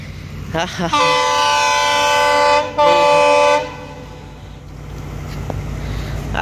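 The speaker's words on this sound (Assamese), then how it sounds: "সেইফালে ট্ৰেইন আহি গ'ল" A loud train horn blares in two long blasts near an overbridge in Nalbari, Assam, with the rumble of a passing train underneath that fades afterward.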